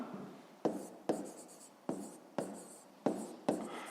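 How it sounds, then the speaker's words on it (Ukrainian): Pen strokes on a notebook page during a fifth-grade maths exercise, six distinct scratchy writing bursts at a steady pace, close and fairly quiet, with no talking. "Записуємо в дужках чого сантиметрів. Ну і пишемо, що це в нас буде інша сторона"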